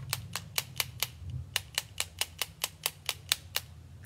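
Paintbrush loaded with ink tapped against a pair of scissors to splatter it, giving a quick, even series of about sixteen sharp, close metallic ticks with a short pause partway through.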